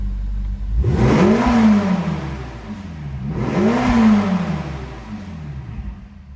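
A warmed-up red 2015 Ferrari California T with its 560 hp engine revs twice up close, each blip rising sharply to a loud roar before falling back to a rumbling idle.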